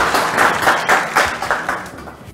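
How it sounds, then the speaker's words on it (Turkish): A television quiz show audience claps in encouragement for a contestant, sharp rhythmic bursts of applause rising and falling in loud, close waves before thinning out near the end. "Murat için bir moral alkış alalım lütfen"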